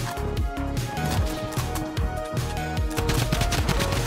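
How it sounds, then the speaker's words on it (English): Drum gun firing in Fortnite, a sustained rapid burst of automatic gunfire with dense, loud, rattling shots that continue almost unbroken throughout. "Oh, the drum gun!"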